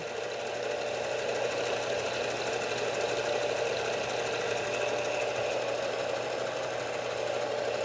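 A spinning sharpening wheel grinds a chisel's bevel, a steady, loud whirring drone with a constant grinding hiss that holds evenly throughout, no voices.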